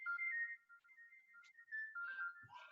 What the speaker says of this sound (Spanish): Un momento que quiero apagar este celular.